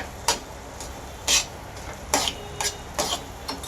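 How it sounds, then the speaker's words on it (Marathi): Coconut barfi mixture being stirred in a pan, a spoon scraping and knocking against the pan in irregular taps and scrapes, close and moderately quiet, with a faint background hiss. "आपण चांगलं हे मिश्रण हलवत राहायचं आहे"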